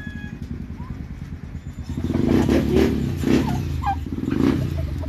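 A turkey gobbles in several rough bursts over a steady low engine-like rumble, louder in the second half.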